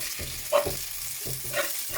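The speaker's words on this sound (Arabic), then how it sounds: "هنا غادي نبقى نخلط حتى تشرب ليا هاد الماريناد كامله" Chinese vermicelli noodles stir-fried in a marinade with coriander, parsley and spices give a soft, steady sizzle, with a few scraping stirs from the pan close by.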